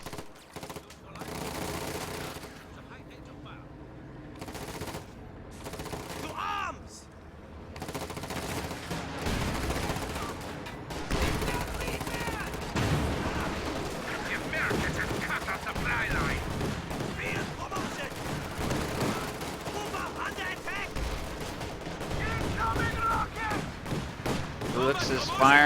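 Rapid machine-gun bursts and single rifle shots crackle through a World War II video game battle with paratroopers and a .50 cal, dense overlapping gunfire building steadily with a few louder blasts.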